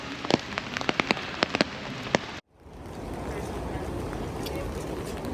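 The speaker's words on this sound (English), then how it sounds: "It's still raining" Steady rain in Prague patters and hisses on surfaces, with a few sharper drips early on before the rainfall settles into a continuous wash.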